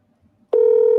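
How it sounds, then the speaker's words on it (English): A phone call clicking through to a forwarded-call voicemail line: brief quiet, then a sudden loud, steady electronic tone sounding alone, close and sustained. "it ain't even ringing. It's going straight to the voicemail"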